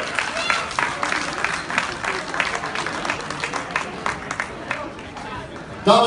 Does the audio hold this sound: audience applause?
yes